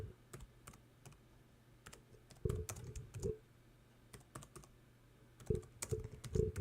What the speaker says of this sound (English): It's very hard typing with just one hand